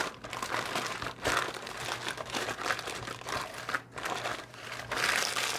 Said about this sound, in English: the rest of it I'm just rolling it up into wax paper